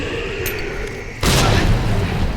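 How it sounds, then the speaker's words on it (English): A grenade blast booms in Resident Evil 4 gameplay, with a low, rumbling burst cutting in abruptly over quieter ambient game sound and fading slowly. "what you want to do is throw a grenade"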